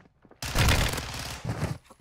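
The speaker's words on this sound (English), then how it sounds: "I've just been killed in 3 bullets of a Fennec." Rapid burst of Fennec submachine gun fire in a first-person shooter game, a loud dense rattle starting abruptly and running about a second, then a second shorter burst.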